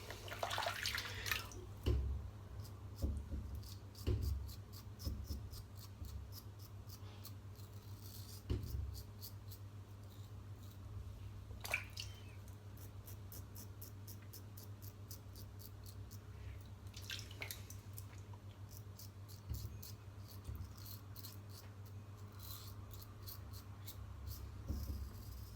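Scraping strokes of a double-edged safety razor drawn through cold menthol shaving soap lather, a quick series of close, soft rasping swipes with occasional water drips and brief clicks between passes, no talking.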